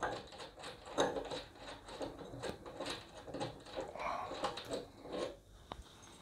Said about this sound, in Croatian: Sa ključem 13 odvrćemo maticu na kontra prirubnici grijača.